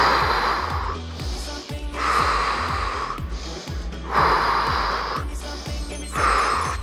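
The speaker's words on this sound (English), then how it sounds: "Back and forth with the abs. Exhale." Forceful rhythmic exhales during an abs workout, about six sharp breaths puffed out at a steady pace, close and fairly loud over a pulsing music beat.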